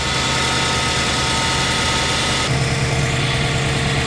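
A Subaru engine idling after a coolant flush, a steady low rumble with a constant hum, close up, a slight shift in tone partway through, no voices.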